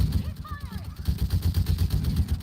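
Gunfire crackles in Mass Effect 3 video game as a rapid series of repeated shots and low thuds, steady and fairly loud throughout amid dense combat noise.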